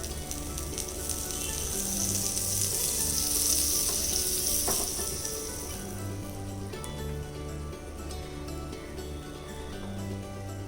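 Sponge dosa made from poha batter sizzles steadily on a hot griddle with butter, a bright continuous frying hiss with a faint low hum underneath, no talking.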